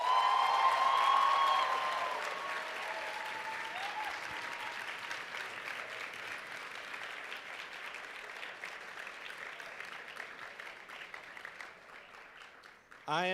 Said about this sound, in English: Now give yourself the loudest round of applause that you can get.